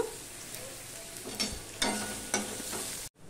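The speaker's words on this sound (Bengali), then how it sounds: "এবার পেঁয়াজটা আমি লাল লাল করে ভেজে নেব" Onions frying in a pan for a Bengali fish chorchori, a steady soft sizzle broken by a few louder stirring scrapes, close and alone, ending abruptly.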